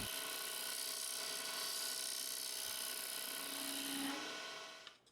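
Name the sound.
small round carbide scraper turning maple and mahogany box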